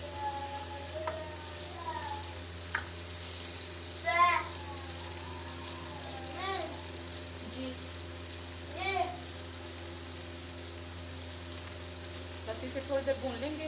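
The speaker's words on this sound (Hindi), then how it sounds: "बस इसे थोड़ी देर भून लेंगे।" Chicken for biryani frying in a pan over a medium-high flame gives a steady, close sizzle throughout, with faint kitchen clinks and a voice speaking now and then over it.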